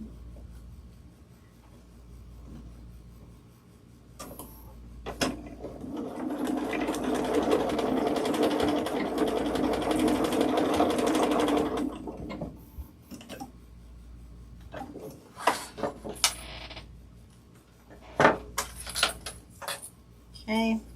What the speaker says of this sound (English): doing 1/2 inch, fold it over, top stitch it